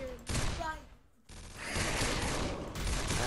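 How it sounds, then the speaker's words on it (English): Pistol fire in the video game SAS Zombie Assault 3 comes as loud, dense crackling volleys that break off briefly, then resume as heavy continuous shooting. "Let's try my pistol."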